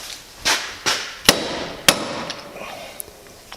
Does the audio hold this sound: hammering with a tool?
yes